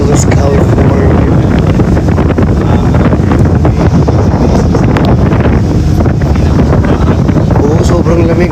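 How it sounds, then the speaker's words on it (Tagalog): Strong wind buffets the microphone on a cold seashore, a loud, constant roaring rumble with gusty surges throughout, and a voice speaks briefly beneath it. "Oo, sobrang lamig. Ang lakas nga ng hangin dito."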